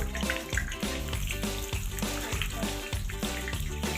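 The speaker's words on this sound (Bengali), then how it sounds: "একটু গ্যাসের ফ্লেমটা লো করে আস্তে আস্তে আস্তে আস্তে ভাববে, মিডিয়াম জালে ভাজবেন।" Chicken satay frying in a pan over a medium gas flame: a continuous close hiss with bubbling, watery pops and no voices.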